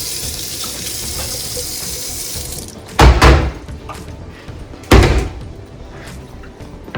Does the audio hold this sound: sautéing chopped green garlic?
no